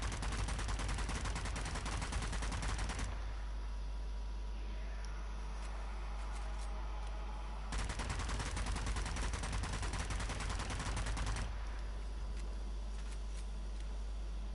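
Rapid automatic gunfire in a shooter game set against Nazi enemies, two long sustained bursts with a lull of quieter shots and ambience between them.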